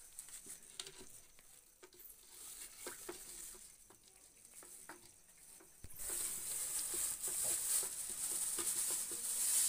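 Caustic soda being stirred into water in a container for homemade laundry soap: soft scraping ticks at first, then a louder steady hiss with quick stirring taps through the second half.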